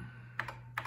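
Two crisp keystrokes sound on a Tatung Einstein computer keyboard, spaced evenly and close up, over a faint steady hum.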